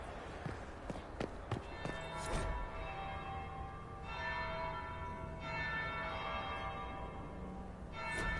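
A church bell tolls in the video game Dragon Age: Inquisition, heard as a few resonant strikes ringing out over steady ambient game background with faint footstep-like sounds.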